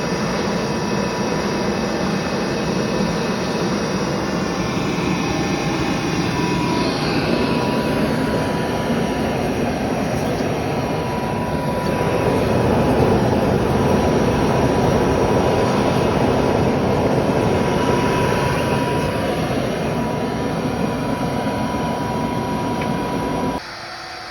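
A rocket-stove fire burns down into a tree stump, driven by an air pump, giving a loud, steady, roaring rush that runs unbroken for about 24 seconds before dropping off abruptly at the very end.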